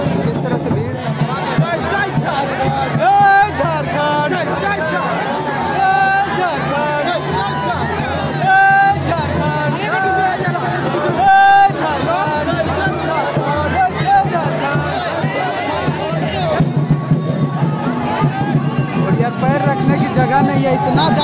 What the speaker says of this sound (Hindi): बहुत ही ज़्यादा भीड़ है, बहुत ज़्यादा क्राउड भी है।